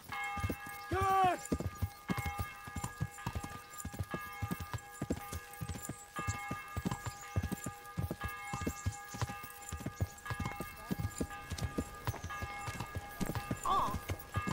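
Horse hooves clip-clop in a steady rhythmic gait while riding in the video game Kingdom Come: Deliverance, moderately loud and continuous, with a brief bell-like ringing near the start and end.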